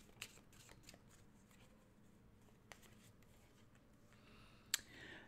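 Tarot cards being shuffled for a daily reading, a quiet, close riffling and sliding with a few sharp card snaps, the loudest near the end, with no talking.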